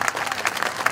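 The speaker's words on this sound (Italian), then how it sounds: "Davide, prenditi l'applauso del pubblico di Viseppe" An audience applauds a comedian at an Italian summer evening show in Romagna: dense, steady clapping close by with no pauses.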